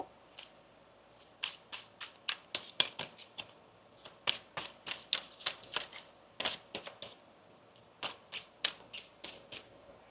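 Tarot cards are shuffled by hand in a quiet room, a run of crisp, rapid riffling bursts and soft slaps in quick irregular clusters, close and fairly faint, with no talking.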